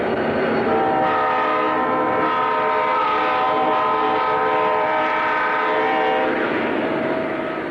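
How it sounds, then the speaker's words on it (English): A Penn Central freight train climbs Crescent Mountain out of Altoona, Pennsylvania, with a loud, sustained roar of locomotives working hard and a steady droning tone throughout. "Penn Central's daily TH3A freight headed up Crescent Mountain out of Altoona, Pennsylvania."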